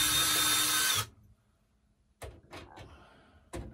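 A power drill spins out screws from an oven trim kit during a microwave/convection oven install: a loud, steady whir for about a second, then quiet clicks and short bursts of tool contact and handling.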